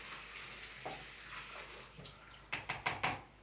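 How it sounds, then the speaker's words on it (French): Running water rinses developed photographic film after fixing, a steady faucet flow followed by a quick run of close splashes and sloshes near the end, with no talk. "je rince ça"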